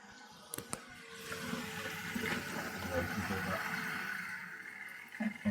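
A gas boiler, back on after repair, runs and purges with a rushing, gurgling flow of water that swells and holds for several seconds, framed by a few clicks and knocks at the start and end.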